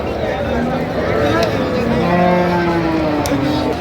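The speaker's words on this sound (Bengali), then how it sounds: "গাভী বাছুর আমরা দেখছিলাম এখানে" Cows with calves moo repeatedly nearby at a cattle market, long low drawn-out calls overlapping each other against a busy background of crowd noise.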